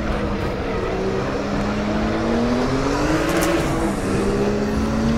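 A Porsche 934 Turbo RSR race car engine in the RaceRoom racing game drones steadily with rising pitch, a continuous loud roar of acceleration and rear tire wheelspin noise with no voices.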